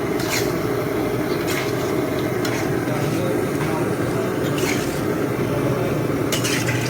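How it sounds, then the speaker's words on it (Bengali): Meat being sautéed in a pan during outdoor cooking, a steady close scraping and sizzling with a few stirring clatters against the pan, continuous throughout with no voices. "মাংস কষা চলছে আপাতত, মাংস কষা চলছে, রান্না করাও চলছে।"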